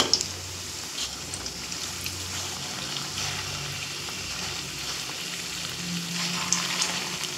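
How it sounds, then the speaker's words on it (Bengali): Steady sizzling of pointed gourd koftas frying in hot oil, a dense continuous crackle with occasional louder pops, close and alone without talk. "এইভাবে উল্টে পাল্টে লাল করে ভেজে নেব।"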